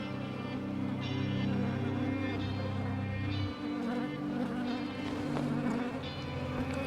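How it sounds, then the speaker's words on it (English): Honey bees in an opened hive during an early-season inspection make a continuous close, droning buzz, with a low engine-like hum underneath for the first half. "Looks like there's a lot of bees in this hive"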